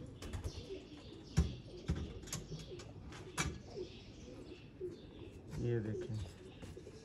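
Sialkoti pearl-eyed pigeons coo softly and intermittently in a quiet setting, with soft rustles and flaps, while someone talks over them.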